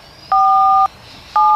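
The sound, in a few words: telephone keypad tones dialing a number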